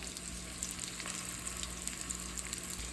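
Curry leaves crackling in hot oil for capsicum rice bath, a continuous dense sizzle with fine popping, close and alone.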